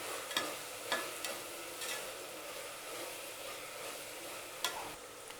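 Tomatoes and mixed vegetables sautéing in a pan for vegetable sagu, a soft quiet sizzle broken by a few sharp spoon stirs and scrapes, close by with no talking.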